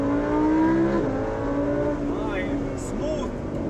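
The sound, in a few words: car engine revving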